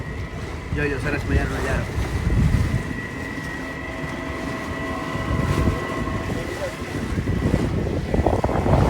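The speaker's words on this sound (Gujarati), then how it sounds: "આ તો ગાઈસ બોટ સ્ટાર્ટ થઈ ગઈ છે" A motor boat runs on Pichola Lake in Udaipur, its engine droning steadily under wind buffeting the microphone, while a person talks over it.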